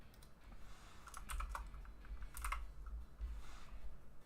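A computer keyboard carries a password being typed, with bursts of quick, light key clicks clustered in a few short runs over a low background hum, close and moderately quiet.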